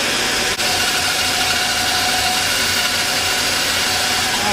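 A bandsaw cuts through a piece of Corian with a steady, loud mechanical drone that holds evenly throughout, with only a momentary dip near the start.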